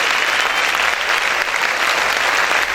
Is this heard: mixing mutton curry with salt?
no